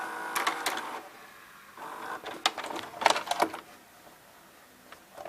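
A Hitachi VT-FX6404A VCR ejecting a tape, close whirring motor and clicking gear mechanism sounds with a few sharp clacks, alone without talk.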